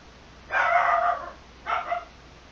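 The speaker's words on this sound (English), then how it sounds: "Sorry guys, my dog is really noisy." A dog barks twice, a longer loud bark followed after a pause by a shorter one, close by over steady background hiss with no talking.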